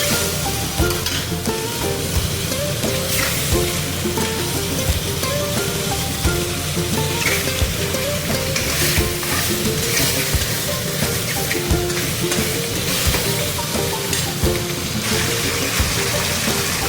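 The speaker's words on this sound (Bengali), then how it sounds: "তো হালকা তেলে এটা ফ্রাই করব" Live local katla fish fries in a little oil, giving a steady, loud, close sizzle with crackling and faint stirring that runs unbroken throughout, with no voices.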